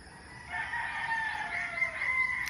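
Roosters crowing at dawn in the Philippines, a drawn-out crow rising and holding over a faint background, moderately near with a second bird overlapping toward the end.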